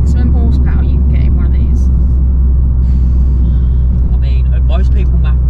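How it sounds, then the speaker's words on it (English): The engine and flywheel of an Abarth 595 Turismo rumble low and steadily inside the car with the clutch pressed, while people talk over it. "You can hear the flywheel when you put the clutch down."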